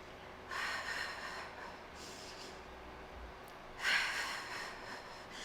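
Slow, deep breaths during a basic yoga session with pillow support, two long airy inhale-exhale swells with a quiet pause between, soft and close with no talking.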